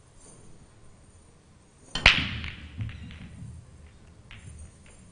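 A sharp crack of the cue ball striking the racked balls on a break shot at a professional pool semi-final, followed by brief scattering clicks and rolls, then a quiet hall.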